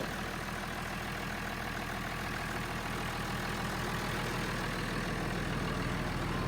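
A low, rumbling tractor engine, started from fully cold, idles steadily and continuously, a rough chugging drone with no voices.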